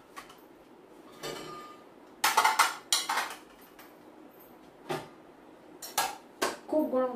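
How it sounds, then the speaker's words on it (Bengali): Dishes and cutlery being unloaded from a dishwasher, with sharp clinks and clatters of plates and utensils in irregular bursts at close range and quieter handling noise between them. "আমাকে এবার ডিশওয়াশার থেকে কিছু বাসন বার করতে হবে"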